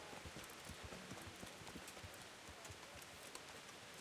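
Faint horse hooves clip-clop at a steady walking pace in the medieval game Kingdom Come: Deliverance, soft distant thuds repeating under a light ambient background.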